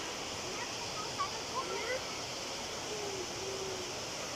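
A distant waterfall in Absam, Tyrol, Austria roars as a steady broadband rush through the whole stretch, with a few brief faint chirps above it and no talk.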